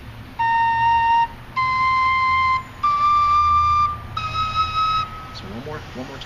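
A four-hole Cherokee whistle plays a short ascending scale of four clear, sustained notes, each separated by a brief gap. The notes are close and loud, with no other sound, followed by a quick fading flutter.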